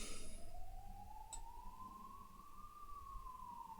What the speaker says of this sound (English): There's the ambulance coming for me now.